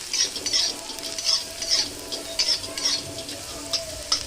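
Chopped garlic sizzles in hot oil in a pan while being stirred for a bathua saag and small prawn dish, with a steady crackling fry and repeated scraping strokes of the spoon, close and moderately loud.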